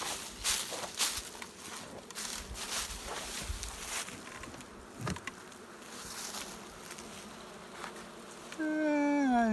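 Honeybees buzzing at an open hive during a hive check, a steady low hum with individual bees zipping close past, plus soft handling noises and footsteps.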